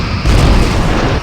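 Starship weapons fire on Cardassian vessels in Star Trek: Bridge Commander, a loud, continuous booming blast with a deep rumble that holds for about a second.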